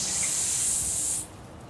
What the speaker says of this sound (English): I'll show you over here the leakage. There he is there. Right where it always leaks from.